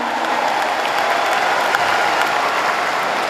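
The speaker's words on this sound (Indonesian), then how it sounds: "Kita beri tepuk tangan." An audience applauds at a university ceremony, a dense, even wash of clapping from many hands that holds steady throughout.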